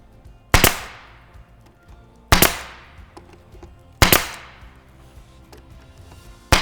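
A nail gun drives fasteners into a shaker wall cabinet during assembly, firing three sharp, loud cracks at steady intervals of about two seconds, each with a brief decaying tail, and a fourth shot starts at the very end.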